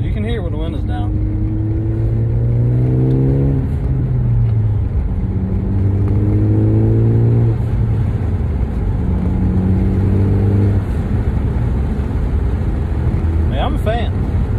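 A Ford Focus ST with a CP-E exhaust and Tial blow-off valve drives with windows down, the engine droning and climbing in pitch through three accelerating pulls under constant road roar, with a short sharp hiss near the end.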